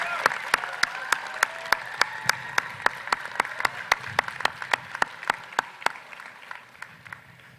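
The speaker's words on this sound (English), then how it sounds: "Let's give them a round of applause." Rhythmic clapping from a graduation ceremony crowd, crisp and regular, with a soft murmur of voices underneath, gradually tapering off.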